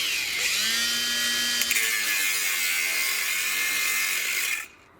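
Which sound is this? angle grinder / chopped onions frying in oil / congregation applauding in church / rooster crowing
angle grinder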